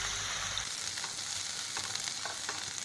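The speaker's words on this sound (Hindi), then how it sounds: "प्याज को हम हल्का भूरा होने तक फ्राई करेंगे।" Grated onion fries in hot oil with a dense, even sizzle that holds steady and close throughout, with faint stirring ticks over the crackle.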